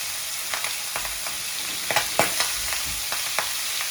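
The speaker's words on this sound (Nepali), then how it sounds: "कस्तो भुट्छु" Chicken feet and chicken hearts fry in a pan over a gas flame, giving a soft, continuous sizzle. Close, distinct scrapes and clicks of stirring break through it at irregular intervals.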